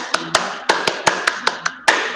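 A group claps together in a quick, uneven rhythm of about nine sharp, close claps during a Tepuk siang classroom ice-breaker.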